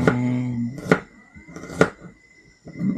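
Herbs chopped with a knife, likely on a cutting board, giving two sharp, separate knocks about a second apart, with a brief voice at the start and quiet gaps between.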